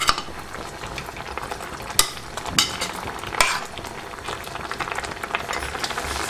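Grated carrot halwa cooks over high heat under a soft bubbling sizzle, with a spoon or spatula scraping the pan in a few distinct knocks and strokes.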